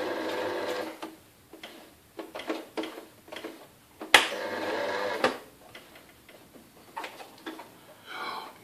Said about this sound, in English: I forgot to put the foot down when I sewed it